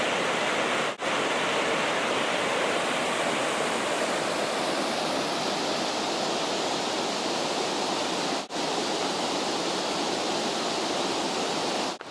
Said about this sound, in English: This could be the big Quilcene River.